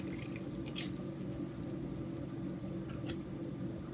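Soaked dahi bara dumplings for a dhaba-style recipe are squeezed, letting water drip and trickle quietly with a couple of faint splashy spurts over low background hiss.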